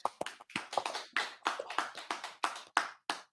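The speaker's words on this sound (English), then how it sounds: "Y'all clap it up." A group at a brotherhood class in Fayetteville, North Carolina claps in a burst of sharp, fairly close hand claps with an uneven rhythm, about a dozen distinct slaps over a few seconds with brief gaps.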